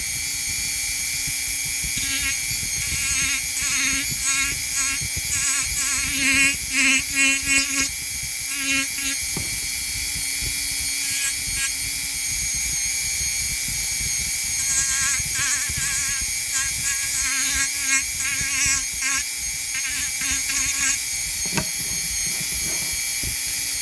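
A handheld power tool trims a wooden back board flush for a nativity piece, giving a steady, close, high-pitched buzzing whine that runs throughout with slightly louder bursts, and no talking.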